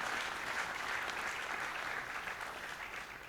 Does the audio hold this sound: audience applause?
yes